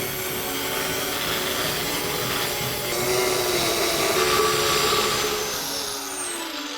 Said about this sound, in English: Angle grinder blade wasn't thick enough to get through the slab